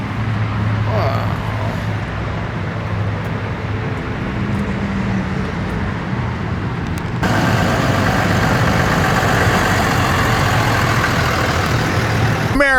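A Ford 6.7 diesel pickup truck engine idles with a steady low rumble and broadband roar, close and continuous, rising a notch partway through.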